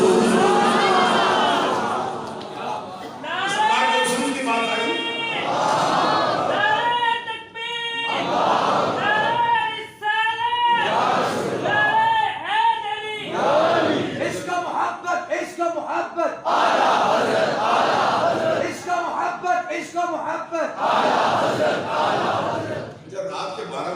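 A large crowd at a religious gathering chants and shouts slogans in loud, rhythmic call-and-response waves that repeat over and over and fill the space.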